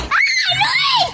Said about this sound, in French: Chut, arrêtez de crier